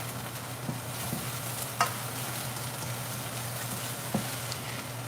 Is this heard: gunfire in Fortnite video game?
no